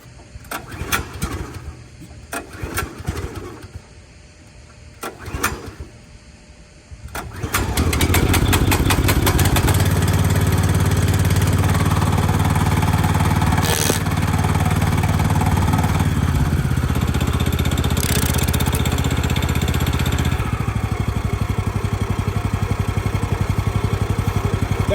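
A Power King DK2 stump grinder's engine is started after several pull attempts, then catches and runs at a loud, steady roar, close up and continuous to the end.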